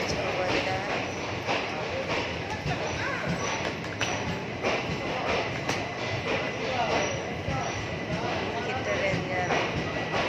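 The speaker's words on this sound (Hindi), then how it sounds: "ट्रेन जा रहा है।" A train passing by at six in the morning makes a continuous loud rattling rumble with rhythmic clacking of wheels over rail joints, sustained throughout without a break while a voice talks over it.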